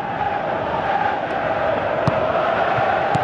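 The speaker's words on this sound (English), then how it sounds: "Crowd appreciates good football all round there." Stadium crowd noise from a PES 23 football match between Senegal and Tunisia, a steady dense roar of supporters held at an even level throughout, with a few faint brief accents rising out of the wash.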